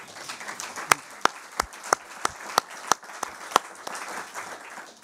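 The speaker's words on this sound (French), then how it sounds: "Et je crois qu'on peut les applaudir." Sparse applause for athletes in a defence committee hearing room, a handful of separate sharp claps spaced irregularly over faint background hum, no full ovation.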